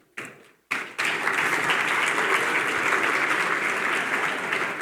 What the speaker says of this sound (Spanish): nson, profesor de la Universidad de Harvard, a quien recibimos con un fuerte aplauso